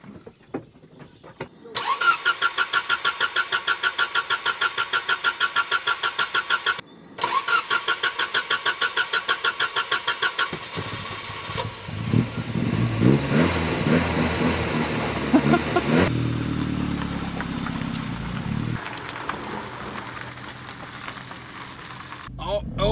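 A car at the 2023 Custom Motor Show in Elmia is started with a rapid, repeated cranking whir, cut briefly, then cranked again before the engine catches and rumbles to life, revving and idling as it pulls away; close and loud.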